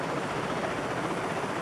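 Helicopter rotor and engine in the rescue flight game SAR4, a steady, even whir that carries through the whole short stretch without talk.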